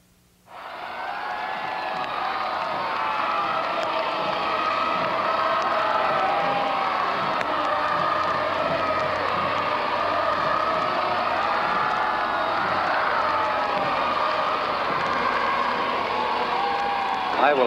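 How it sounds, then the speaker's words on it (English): A large crowd at a royal visit in London cheers and shouts continuously, a broad roar sustained and loud throughout, with no single voice standing out. "The cheers of this crowd here will be much more eloquent than anything I can say to you"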